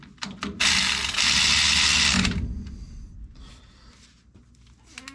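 Tool tightening bolts on a 1976 Chevrolet C10 truck, a close, loud rapid mechanical burst of about a second and a half followed by fainter clicks and rattles, with no talking.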